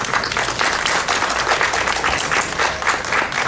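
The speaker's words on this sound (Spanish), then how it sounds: "Lo recibimos con unas palmas." Steady applause from an audience at a book presentation event, dense even clapping throughout, moderately loud and close, with no talk over it.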